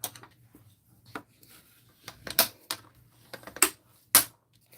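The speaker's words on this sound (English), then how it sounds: "Now let's fold and burnish our edge." Designer series paper being folded and its crease burnished: scattered crisp rustles and short scraping strokes, several louder passes toward the end, close and otherwise quiet with no talking.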